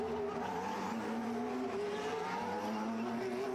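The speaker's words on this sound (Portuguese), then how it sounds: "Os dois carros da Ferrari são mandados à pista." Ferrari Formula 1 cars at the 2023 Bahrain Grand Prix qualifying pull out of the pit lane onto the track, a continuous high engine whine with shifting pitch, heard at a distance under a steady crowd-and-circuit hum.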